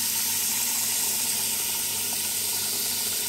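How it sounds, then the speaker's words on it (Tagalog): Water pours steadily into a cooking pot while meat biryani is prepared, making a soft, continuous hiss and splash with no talking. "So, lagyan muna natin ng tubig."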